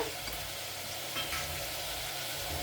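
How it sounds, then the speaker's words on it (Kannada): Tomatoes and onion frying in a pan for tomato rice, a soft, steady sizzle with light stirring scrapes, close and quiet with no voices. "ನೋಡಿ, ಟೊಮೊಟೊ ಬೇಯ್ತಾ ಇದೆ"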